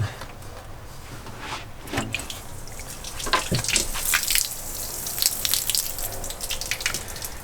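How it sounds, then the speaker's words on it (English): Water trickling and splashing as it drains out of the floor pan of a Jeep CJ, an irregular running flow with scattered drips, fairly quiet and close. "we gotta drain the water in the floors"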